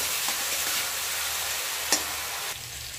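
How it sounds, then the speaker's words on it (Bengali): Ginger garlic paste fries in a pan with a steady, fairly quiet sizzle, a few light stirring scrapes and one sharper clink near the end. "এবার আদা রসুনের ভালো করে কাঁচা গন্ধটা চলে যাওয়া পর্যন্ত এটাকে ভেজে নেব।"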